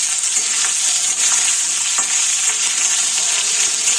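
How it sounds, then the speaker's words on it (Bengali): Potatoes fry in hot oil in a pan for a Bengali drumstick curry, a steady close sizzle with occasional stirring scrapes and crackles, no voices. "আমি প্রথমে আলুগুলোকে ভালো করে ভেজে নিচ্ছি"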